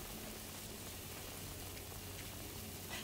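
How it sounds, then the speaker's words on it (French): Steady rainfall from the Death Stranding 2: On the Beach game, a constant, even hiss of falling drops without pauses or changes, fairly quiet throughout. "Son pouvoir de provoquer la pluie va d'ailleurs éteindre les feux de forêt"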